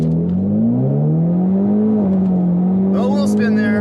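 A car revs at about 2,000 RPM, held on the brake for a launch at a drag strip. The steady, close engine hum swells slightly before a voice cuts in near the end.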